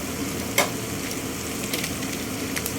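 Steady, close sizzle of meat and vegetables frying in a pan, a continuous crackling hiss with a brief louder clatter near the start and a few faint pops later.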